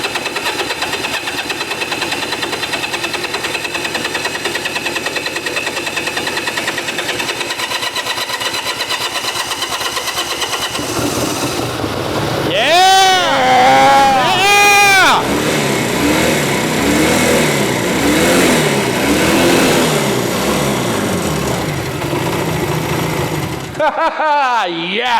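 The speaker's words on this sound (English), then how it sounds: "Just start it before it can leak out." An old Honda Dream motorcycle, long abandoned in a warehouse, cranks over and catches, its engine running roughly with revs rising and falling, loud and close; people talk over it at times.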